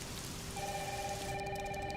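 Heavy rain pours steadily in a video game trailer as a dense, constant hiss, while a faint tonal hum runs beneath it.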